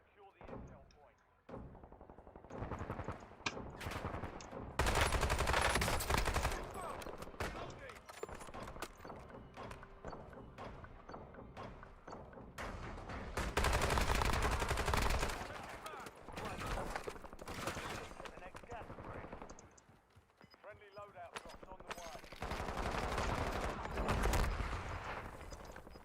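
Gunfire in the shooter game Warzone, with repeated bursts and heavy blasts coming in loud waves, mixed with game noise and someone talking.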